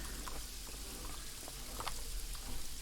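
Rain falling during the day-night cycle in the video game Paradise Killer, a steady hissing wash of drops with scattered soft patters, continuous and fairly close.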